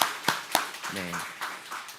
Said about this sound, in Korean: 우리 집사님 잠깐만 일어나시면 박수로 환영 한번 하겠습니다